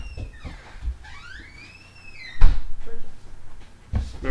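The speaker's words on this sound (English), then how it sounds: "Remember to turn the knob when you shut the door" A Lopi 1250 woodstove door swings shut with a loud metallic clunk and latch, preceded by softer handling knocks and a rising squeal, with a second knock near the end.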